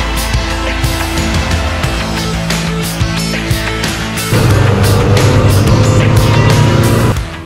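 Race car engines roar loud and close as the Lamera Cup field starts its race at Dijon, with a rising note that swells and then drops away near the end.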